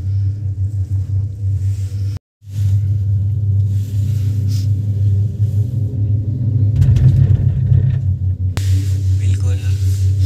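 A Gulmarg gondola cable car ride, a steady low rumble and hum of the moving cabin throughout, loud and close, with a brief dropout near the start and a rougher surge later.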